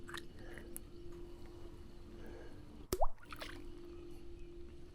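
A caught bass, held up after landing during a Bassmaster Elite tournament on the water, gives a single short bloop near the middle, close and brief over low outdoor background noise.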